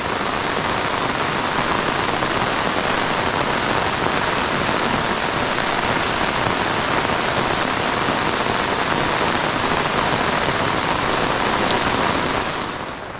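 Heavy rain pours down during a windstorm in a dense, constant roar, drumming hard on a surface nearby, steady throughout before easing slightly at the end.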